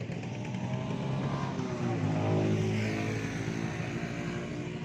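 A car passes by on a rural road, a loud engine rush swelling to a peak midway and then easing off, heard alone without talk.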